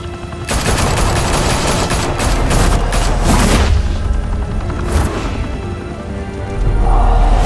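Sustained gunfire and explosive booms in the Batman: The Telltale Series game in Gotham, a loud dense fusillade of rapid shots with heavy blasts and whooshes running the whole time, with no talk.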